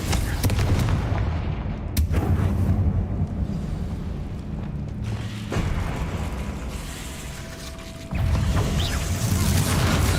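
Confringo fire spell explosions in Hogwarts Legacy, heavy booming blasts and rumbling roars that run continuously, with sharp cracks near the two-second mark and a renewed loud burst near eight seconds.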